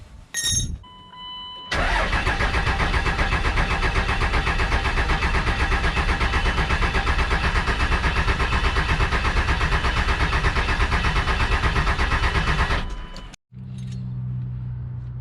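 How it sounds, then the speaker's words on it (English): A 24-valve Cummins diesel with VP44 pump in a 1998–2002 second-generation Dodge Ram cranks over for about eleven seconds, a steady loud rhythmic starter chug, preceded by brief clicks and followed by a short pause. "I'm gonna go ahead and crank this over for about 15 seconds."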